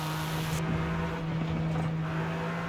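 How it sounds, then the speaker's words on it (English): A stock three-cylinder JDM car engine in Forza Horizon 5 drones with a steady, buzzy tone that holds one pitch throughout, loud and continuous, without talking. "It sounds sick too. It sounds like a 3-cylinder."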